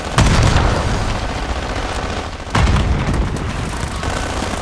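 Grenade explosions in the shooter game Call of Duty Black Ops 6: two loud, heavy booms about two seconds apart, each trailing into a dense rumbling roar with no talk.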